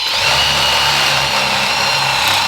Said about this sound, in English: I took my drill and turned it sideways and just kind of made a little recessed imprint looking thing